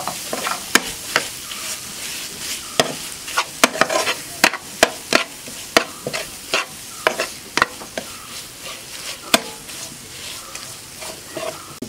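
Masala for a chicken dish frying in a pan after salt is added, with a steady sizzle broken by frequent sharp scrapes and clacks of a spoon stirring, close and fairly loud.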